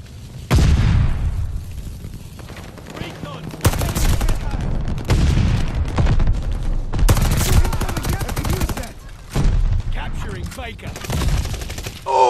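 Heavy weapon fire and explosions in the video game Vanguard come in loud sustained bursts with booming blasts and brief quiet gaps, while players talk over the action.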